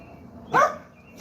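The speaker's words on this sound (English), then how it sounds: "excuse me, y'all, that's my dog." A single sharp dog bark rings out once, fairly close and loud against a quiet background, with nothing else following it.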